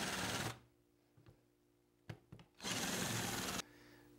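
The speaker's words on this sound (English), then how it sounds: "we're going to countersink these holes with a wider bit" Power drill countersinking screw holes in an antler skull plate with a wider bit, two loud sustained whirring bursts at the start and end separated by quieter gaps with brief clicks, close up and without talk.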